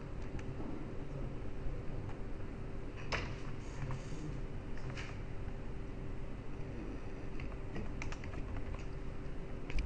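Username and password typed on a computer keyboard, with a quick, steady run of light keystrokes, faint and close, over a low constant background hum and with no talk.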